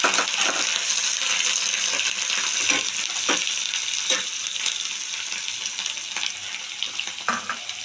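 Panch phoron spices and green chillies sizzle in hot oil, a bright continuous crackle with scattered sharp pops and spits, close and steady throughout.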